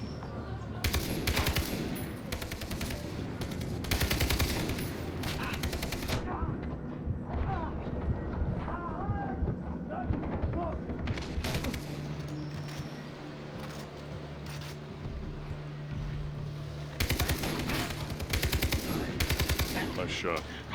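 Gunfire in the video game Far Cry 3 on a pirate-held island, loud rapid bursts of automatic shots in several volleys separated by quieter stretches.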